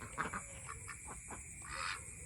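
Pekin ducks on a small farm quack while laying eggs, giving a few short, faint calls in quick succession against a quiet background.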